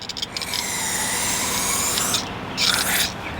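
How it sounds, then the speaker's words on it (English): Parts cleaner sprayed from an aerosol can onto a rear brake caliper slider on a Chevrolet Tahoe, a close steady hiss with short sputtering bursts at the start and near the end. "just spray some parts cleaner"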